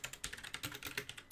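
Someone types on a computer keyboard while programming, making quick, irregular clicks close to the microphone. The bursts of keystrokes come in uneven clusters with no talking.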